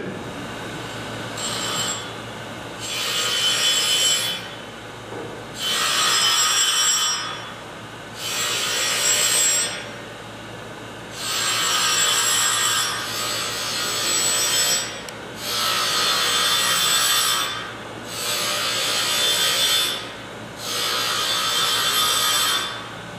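A surface grinder wheel being dressed back to concentric gives off harsh, hissing grinding bursts in about eight regular passes, each a couple of seconds long with short quieter gaps between, close and steady.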